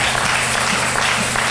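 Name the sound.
church congregation applause and acclamation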